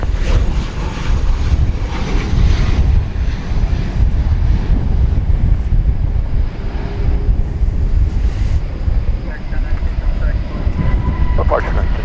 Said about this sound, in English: And there goes the 767.